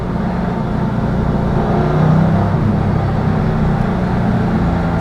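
A Porsche 993 Gemballa Turbo, a 911, drives with its engine steadily revving, a loud continuous drone that swells slightly around the middle, with no voices.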